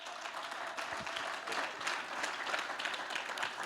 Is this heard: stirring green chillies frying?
no